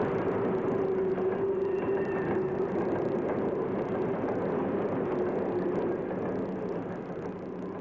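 Virginian Railroad Pacific steam locomotive number 210 heading passenger train number 4 near Kilby in 1951, a steady loud rumble of a passing train with a sustained low hum and no voices.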